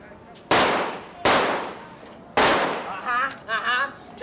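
Gunshots ring out in a staged shooting show at Knott's Berry Farm, three sharp, loud cracks spaced about a second apart, each with a short decay, followed by a voice speaking.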